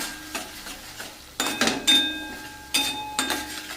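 Green masala paste for a bitter gourd curry sizzles in oil, with bursts of stirring and scraping in a pan at about 1.4, 2.7 and 3.3 seconds over a steady low fry.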